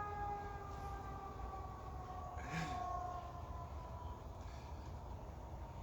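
A distant siren wails in long, steady tones over a constant low rumble, sounding far off and continuous throughout.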